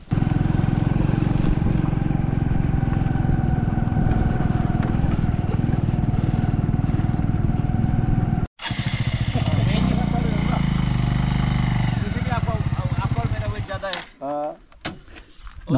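A motorcycle engine drones steadily while climbing a rough, uneven hill road toward a hilltop temple. It holds a loud, constant note for about eight seconds, then breaks off into irregular rattles and bumps, with a voice talking over it.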